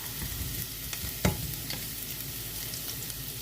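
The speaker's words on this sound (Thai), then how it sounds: "ให้น้ำมันร้อนนิดนึงค่ะ แล้วก็ใส่กระเทียมลงไป" Garlic sizzles steadily in hot oil in a pan for a simple Thai bean-sprout stir-fry over medium heat, a close, continuous frying hiss with a few light stirring knocks.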